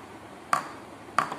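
Two sharp taps on a rubber-latex-dipped mould, spaced about half a second apart, each a crisp close knock over quiet room noise.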